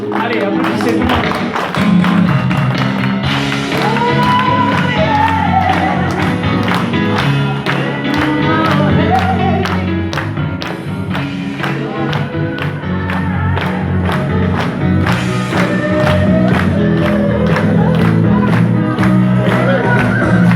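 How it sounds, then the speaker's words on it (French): At a live stage show in Catalonia, an audience applauds with sustained, layered clapping, scattered shouts and crowd voices, loud and lively throughout. "Allez, applaudissez tout le monde."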